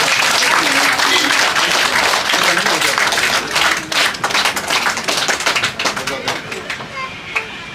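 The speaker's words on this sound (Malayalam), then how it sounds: "എല്ലാവരും കൈയടിക്കാം." Lively applause from a group at a get-together of friends, many hands clapping loudly and steadily, gradually loosening into scattered claps, with voices talking over it.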